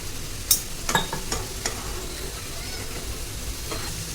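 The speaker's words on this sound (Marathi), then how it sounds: "सोनेरी रंगावरती छान तळून झालेले आहेत आता आपण याला काढून घेऊया" Shankarpali, a golden fried dough snack, frying in hot oil: a steady sizzle with a few sharp crackles and spatters near the start, close by with no voices.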